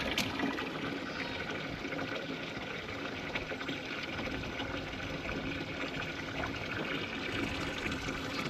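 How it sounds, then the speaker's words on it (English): A tap runs water into cattle stock tanks outdoors on a windy farm, producing a steady gushing, splashing flow that continues unbroken at moderate loudness. "I turn on the water, fill them up"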